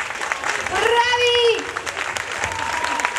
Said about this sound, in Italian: Applaudiamo!